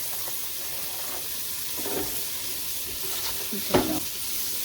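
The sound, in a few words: onions frying in butter in a frying pan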